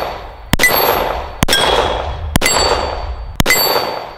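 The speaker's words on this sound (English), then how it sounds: "I might go ahead and finish off these last rounds we got for the 1911." A 1911 pistol fires four sharp shots at roughly one-second intervals, each striking a steel target that rings with a bright metallic clang and decays before the next.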